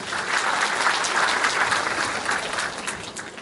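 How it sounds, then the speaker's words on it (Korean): An audience at an indoor safety-education session applauds to welcome a speaker, giving a short burst of steady, dense clapping at fairly close range. "예, 박수로 환영해 주시기 바랍니다."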